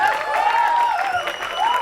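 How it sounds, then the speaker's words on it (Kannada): Applause for a performer named Geetha at a Mangaluru stage event, a steady wash of clapping from the audience that holds throughout, fairly loud and continuous. "ಗೀತಾ ಅವರಿಗೆ ಜೋರಾದ ಚಪ್ಪಾಳೆ"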